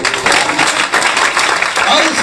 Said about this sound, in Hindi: तालियां धन्यवाद करो।